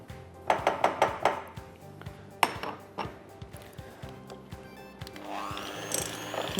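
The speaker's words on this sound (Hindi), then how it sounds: "मक्खन बीट कीजिए, उसमें चीनी डालिए" Butter and sugar are beaten in a bowl, a rapid run of sharp clinks at first, then scattered knocks and scraping against the bowl, with a whirring sound near the end.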